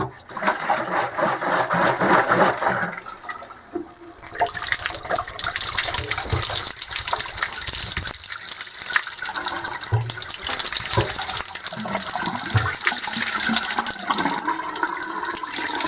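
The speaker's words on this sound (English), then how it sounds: "I think what I'm going to do is just fill it full of water first, slosh it around" Hot water gushes and sloshes loudly inside a rusty gas tank from a Honda TRX70 ATV, starting with a splashy fill and then turning into a steady rushing wash that runs without pause.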